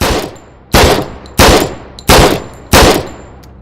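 Gunfire in the VR zombie game Surv1v3 on HTC Vive, five loud, sharp shots spaced at regular intervals of roughly two-thirds of a second, each with a short ringing decay.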